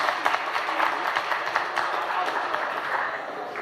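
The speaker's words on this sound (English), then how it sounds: "please give our panel a round of applause." An audience claps for a panel discussion, producing a brief burst of dense, lively applause that stays strong throughout and fades slightly near the end, without talk.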